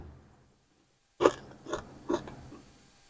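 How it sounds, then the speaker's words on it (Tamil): Someone bites into a crispy rava vada made from semolina: one sharp crunch after a silent pause, then two or three softer crunchy chews, close to the mic. "நான் கடிக்கும் போது சவுண்ட் வரும் பாருங்க."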